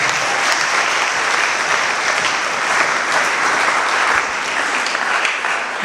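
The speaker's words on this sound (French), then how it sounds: "Acclamons pour le Seigneur." A church congregation at a sermon applauding, dense and continuous clapping from many hands filling the room at steady loudness throughout.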